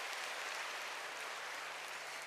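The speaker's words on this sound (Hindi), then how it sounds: "अब जोर से तालियां बजाइए।" An audience at a talk claps together in a steady, dense wash of applause that stays fairly faint for the whole moment.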